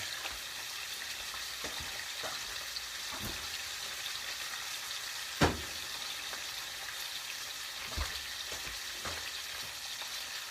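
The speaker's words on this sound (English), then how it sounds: "The bottom of our pan is full of bacon." Bacon fries in a pan for a pizza, giving a steady, fairly quiet sizzle and crackle throughout, with a couple of brief knocks partway through.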